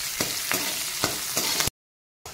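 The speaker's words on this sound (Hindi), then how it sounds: "उसमें थोड़ा सा हरी मिर्च डाल देंगे, थोड़ा सा प्याज भी डाल देंगे और इसको हम लोग फ्राई करेंगे" Green chili and chopped onion frying in oil in a pan for a tadka: a steady close sizzle with four regular scrape-and-stir strokes, then a sudden cut to silence before the frying resumes briefly.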